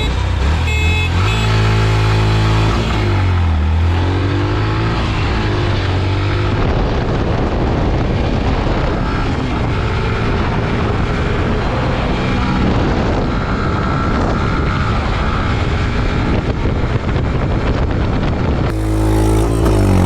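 Loud, continuous engine roar from a Yamaha FZ 150 motorcycle racing an Ola S1 Pro electric scooter at top speed, with rising and falling engine pitch as it revs and shifts, close and dominant, with no talk.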